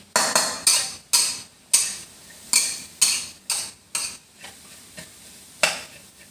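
A spatula scrapes and clacks against a pan while pork kaphrao is stir-fried, a dozen sharp rhythmic strokes over a soft sizzle, loud and close with brief pauses between.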